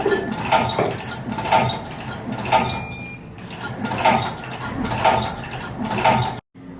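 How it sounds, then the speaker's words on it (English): A tag stringer machine set to cycle in batches runs with steady, rhythmic mechanical clacks and ratcheting about once a second, eases briefly midway, then cuts off abruptly to silence near the end. "And if you want to machine run and stop, so here have be setting to 0, and then 5 pieces."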